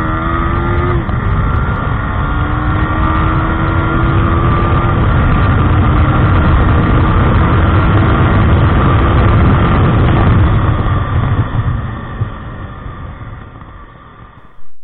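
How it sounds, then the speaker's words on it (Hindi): A Yamaha R15 V4 motorcycle engine rises steadily in pitch as it accelerates through gears, loud and close, then fades and drops off near the end. "अब जाते जाते यामाहा R15 V4 पे एक एक्सेलरेशन टेस्ट भी बनता है"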